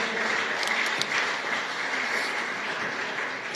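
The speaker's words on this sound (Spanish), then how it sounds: "Dele fuerte el aplauso a Cristo." A church congregation applauding, dense sustained clapping from many hands filling the room at moderate loudness, continuous throughout without talk.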